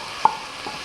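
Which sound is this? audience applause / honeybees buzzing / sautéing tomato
sautéing tomato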